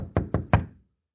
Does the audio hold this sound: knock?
yes